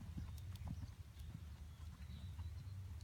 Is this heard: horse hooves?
yes